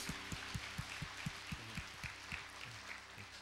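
A church congregation at Sunday worship clapping to welcome the pastor's wife, heard as a fairly faint, distant patter of hands with a few louder claps, fading slightly toward the end.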